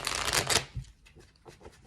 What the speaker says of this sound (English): I just shuffled the shit out those cards